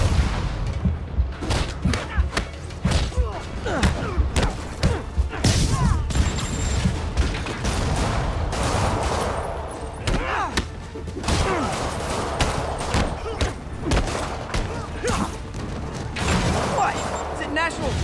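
Rockets fire in the Spider-Man PS4 game, a rapid run of loud booms, thuds and blasts stacking over game music and effects, with voices heard in places.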